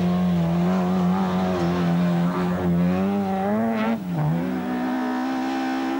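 A VW Golf rally car at the 1997 British Rally Championship, its engine holding a loud, steady drone with a brief dip and recovery, heard close with no other sounds.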